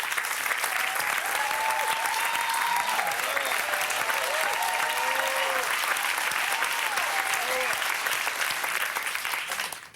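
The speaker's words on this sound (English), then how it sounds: "you all deserve a huge round of applause" Audience applause for speakers at an evening charity speech event, sustained and even clapping from a crowd that keeps going until it cuts off abruptly at the end, with faint voices underneath.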